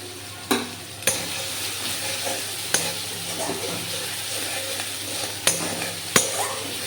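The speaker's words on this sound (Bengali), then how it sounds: "পেঁয়াজ ভাজা হতে হতে দিয়ে দিলাম তিনটে কাঁচা লঙ্কা চেরা" Onions frying in a pan with three slit green chillies added: a soft, continuous sizzle with occasional sharp clinks of a utensil against the pan.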